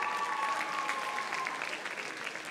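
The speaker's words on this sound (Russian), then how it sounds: "Аплодисменты!" An audience at a festival awards ceremony applauds, even continuous clapping heard fairly faintly from a distance.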